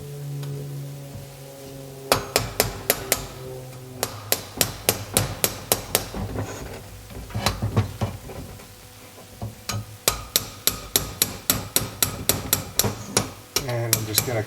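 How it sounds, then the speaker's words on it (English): A steel punch is struck with a hammer to drive a pin out of the throttle shaft of a Weber triple-barrel 40 IDTP carburetor, giving bursts of sharp metallic taps in quick rhythmic runs, close and clear without talk. "I'm just going to carefully drive that pin out like that"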